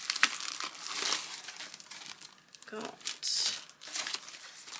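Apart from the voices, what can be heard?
rummaging through paper envelopes and cards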